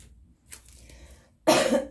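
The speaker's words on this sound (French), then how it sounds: "Ça fait déjà 2 minutes, j'avais envie de tousser" A man with a cold gives one sharp, close cough near the end, after a quiet stretch with faint breathing and throat sounds.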